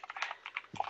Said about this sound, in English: Now I am typing my own book